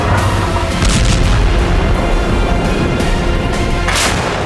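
Russian howitzer artillery fire in Crimea, a continuous loud roar of booming blasts and rumble with sharp bursts standing out near the end, no voices present.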